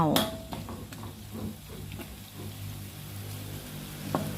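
Food sizzles in a hot pan while a utensil scrapes and stirs it, with a few clinks and a voice talking faintly.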